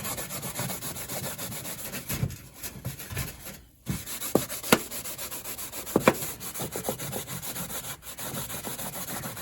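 A scouring pad loaded with Barkeeper's Friend scrubs a mineral stain on a mobile home surface, giving close, rhythmic gritty rubbing strokes with brief pauses and a few sharp scrapes.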